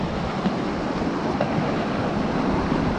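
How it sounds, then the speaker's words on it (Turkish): A small waterfall in the Kemer Kesme Boğazı canyon gives a constant broadband rushing wash of falling water, fairly loud and unbroken, with no voices. "Aa Doruk burada küçük bir şelale var"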